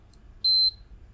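A cheap digital multimeter in diode test mode gives a single short, clear beep, close and alone over faint background hum.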